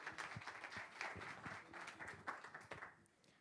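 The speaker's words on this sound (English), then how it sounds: "Give the man a round of applause" An audience applauds, a dense, even wash of clapping hands that carries on steadily and fades slightly at the end, heard at a distance and fairly quietly.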